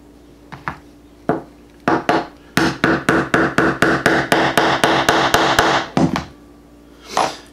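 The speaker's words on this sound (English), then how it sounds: "the big one's going to hammer it down to set that snap" Metal hammer blows setting a snap on a handmade leather belt key clip: a few spaced taps, then a steady run of about fifteen sharp, even strikes, and one last hit after a pause.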